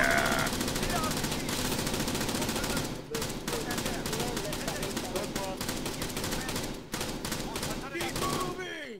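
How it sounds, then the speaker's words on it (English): Sustained automatic gunfire in the military shooter Arma 3 rattles in long, rapid bursts with barely a pause. Voices sit faintly underneath the loud, close firing. "Suppressing fire!"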